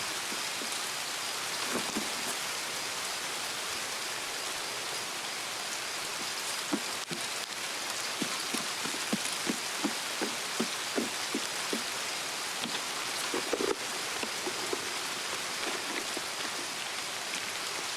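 Continuous rain in the game Escape from Tarkov hisses steadily throughout, with a scatter of soft thuds and taps midway, and no voices.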